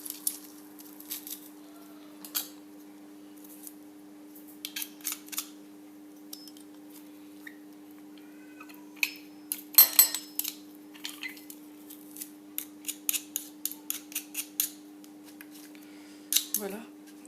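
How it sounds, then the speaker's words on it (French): Garlic squeezed through a garlic press in a home kitchen, heard as a series of short, sharp clicks and squishy crunches in irregular bursts, fairly close and quiet against a steady low background hum. "Je vais mettre l'ail, je vais l'écraser avec mon presse-ail."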